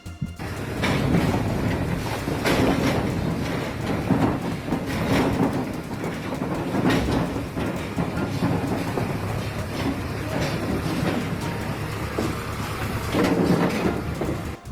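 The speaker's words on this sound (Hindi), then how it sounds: "चलिए सबसे पहले देखते हैं कि कार्रवाई में किस तरीके से बुलडोजर गरजा" A bulldozer demolishes buildings during a police demolition drive in Bengal, with a large crowd gathered. Loud, continuous heavy rumbling carries repeated crashing bursts throughout, with no clear talk.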